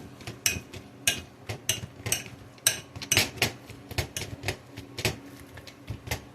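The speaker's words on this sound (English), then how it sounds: "I've used a fork, just a standard dinner fork, and the point is just to mix everything and crush" A standard dinner fork mixing and mashing garbanzo beans for hummus in a bowl, with close, irregular clinks and scrapes of metal against the dish in quick, uneven bursts, with no talking.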